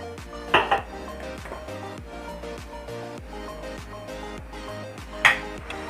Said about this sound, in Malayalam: ഒരു പാത്രം കനമുള്ള പാത്രം എടുക്കുന്നു കേട്ടോ ഇത്തിരി വലിപ്പമുള്ള പാത്രം